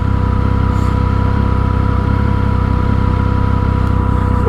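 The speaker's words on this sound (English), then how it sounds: "I can hear that fan whirring away." A motorcycle sits idling with its cooling fan whirring as the engine runs hot, a loud, steady, close drone with a constant low hum and no pauses.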